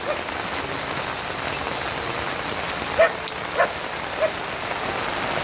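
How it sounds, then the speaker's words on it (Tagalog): Heavy rain pouring steadily on a surface at a forest campsite, with three short dog barks in the distance partway through. "Umuhos na naman yung ulan."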